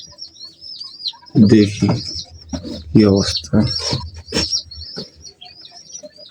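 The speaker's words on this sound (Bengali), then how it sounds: "কোয়েল পাখিগুলো সবগুলো সুস্থ আছে" Quail kept at home chirp in a series of sharp, high repeated calls. Someone speaks over them partway through.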